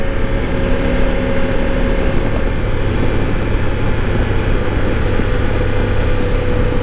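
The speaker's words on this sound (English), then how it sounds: "We'll give you a shot taking the bike up to 65, maybe 70 miles an hour." Ducati Multistrada V4 Rally motorcycle on the street, with a steady, loud engine drone and rushing wind noise running unbroken throughout, no clear rev peaks standing out.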